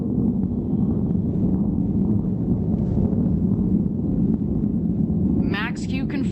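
Blue Origin New Shepard rocket climbing toward space on its fifth flight, heard as a continuous deep, heavy roar with a rumbling low-end wash, steady and loud throughout with a brief chirping noise near the end.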